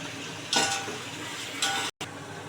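Onions sautéing with salt in a pan while tomato rice is cooked, a steady soft sizzle broken by two brief louder bursts of stirring.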